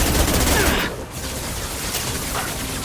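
Rapid SMG fire rattles in dense bursts during a Mass Effect 2 firefight, loud and continuous with a short pause, amid game combat noise.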